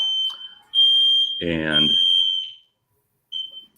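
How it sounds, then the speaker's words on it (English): A building smoke detector sounds a loud, steady high-pitched electronic alarm tone during a test, broken by a short gap and a brief final chirp, with a voice speaking over it partway through. "there's testing the smoke detectors in our building today"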